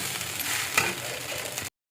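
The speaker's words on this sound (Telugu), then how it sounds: "సో కొంచెం వచ్చేసి ఫ్రై చేసేసుకుంటున్నాను." Cabbage curry frying in a pan, a brief close hiss of sizzling with light stirring scrapes, moderately loud, no talking.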